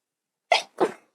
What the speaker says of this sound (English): Oh, I totally have to sneeze.